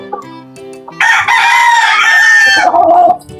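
Pure white straight-comb Kelso rooster letting out one loud, close crow that rises, holds, and trails off, after a few soft clucks.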